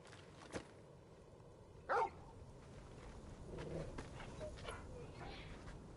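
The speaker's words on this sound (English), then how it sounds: "And who's this fine hound I see before me?" A hound in Final Fantasy XVI gives one short, clear bark, with a fainter yip just before it, over quiet game ambience and soft voices.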